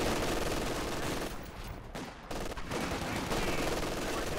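Sniper and machine gun fire crackle in Company of Heroes 2 as a dense, continuous rattle of shots. The fire briefly thins in the middle, then resumes, with a commentator talking faintly beneath it.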